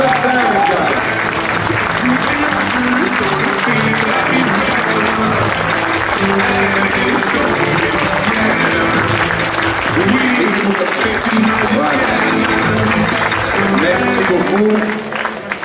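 Loud, sustained applause from an audience at a gastronomy fair in Le Mée-sur-Seine, honouring students of the 2025 Jacques Durand contest, steady and dense over a musical backing throughout.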